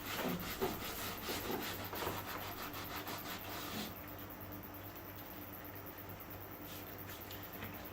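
Steady rubbing and scraping of a pad against damaged wood of an interior window sash during stripping, a continuous rasping texture that is louder and more vigorous in the first half, then settles into a quieter scrub.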